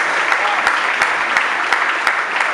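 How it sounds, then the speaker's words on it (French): A concert audience bursts into steady applause for the artist, close, dense clapping at an even level across the whole stretch, with no voices over it. "Est-ce qu'on peut acclamer pour l'artiste?"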